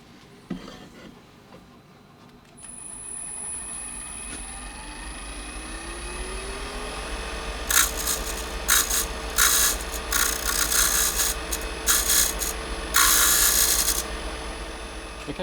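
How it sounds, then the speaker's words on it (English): A lathe tool re-profiles the rim of a turned olive ash cup, with a steady machine hum and a bright whine, then a series of rough, scraping cutting bursts near the end. "I'm just going to re-profile the very rim of the cup, just to give it a slight curve"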